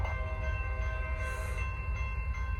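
A Norfolk Southern or CSX freight train rolls past with a steady heavy rumble and droning horn tones, loud and close with no talking.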